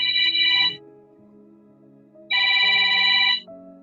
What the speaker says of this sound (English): Somebody's phone ringing.